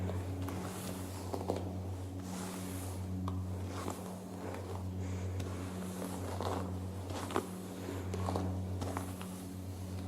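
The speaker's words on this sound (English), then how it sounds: "Or the sound of hair being brushed." Hair being brushed for ASMR, soft repeated bristle strokes that swish close to the microphone in an irregular rhythm, quiet over a low background hum.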